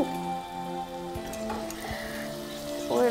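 A flour and butter roux cooking in a pan gives off a soft, steady sizzle with light scraping and stirring sounds, faint and continuous under a low background hum.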